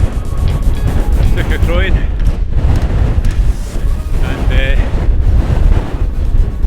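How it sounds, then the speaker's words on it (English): Strong wind roars across a mountain ridge in the Crianlarich Hills, blasting steadily against the microphone in a loud, continuous buffeting while someone talks through it. "But it's very windy"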